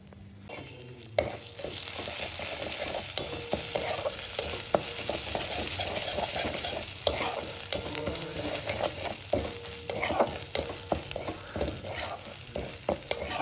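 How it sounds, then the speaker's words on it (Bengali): Ground spices, including Kashmiri chilli powder and green chilli paste, fry in a pan while being stirred, giving a steady close sizzle broken by frequent scraping strokes of the spoon, with no talk. "ভেজে নিই মশলাগুলো"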